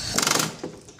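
An aircraft rivet is squeezed down during a cowling nut plate repair, a brief mechanical ratcheting and clicking of the squeezer tool, close and moderately loud, lasting under a second.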